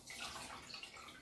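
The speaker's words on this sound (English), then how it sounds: "You're gonna wring out the towel, and so the water is gonna be hot." Hot, wet towel wrung out over a basin of hot water, giving a continuous close splashing and trickling of water for about a second, with no voices.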